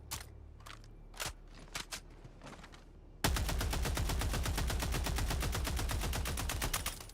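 Sustained rapid automatic gunfire from a Halo Warbond weapon in a video game, loud and dense after a few scattered earlier shots, heavy recoil-driven bursts running continuously to the end.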